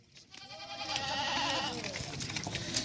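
A goat bleats in a farm setting against steady background noise, giving one drawn-out, moderately loud call.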